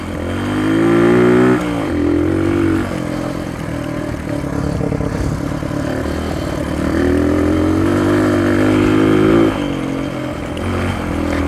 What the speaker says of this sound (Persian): موتوره تو دنده‌های پایین زورش بدک نیست